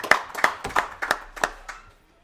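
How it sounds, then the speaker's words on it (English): About six even, crisp hand claps sound close by, dying away within two seconds, as a small audience gives brief applause at a bowling alley. "give Mackenzie a round of applause"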